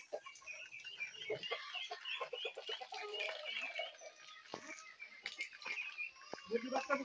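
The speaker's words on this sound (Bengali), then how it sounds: "ভালো লাগে না সকাল সকাল হাঁস মুরগির শব্দ?" Morning farmyard poultry, ducks and chickens, cluck and call close by in a busy, irregular stream of short cackles and squawks with brief pauses between bursts.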